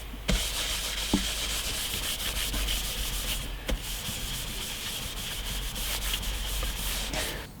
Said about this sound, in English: Now we've sanded down the fretboard